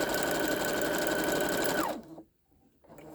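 A sewing machine stitches a zig zag applique on fabric, a loud, close, steady mechanical whir that runs for about two seconds and then stops, followed by quieter handling sounds.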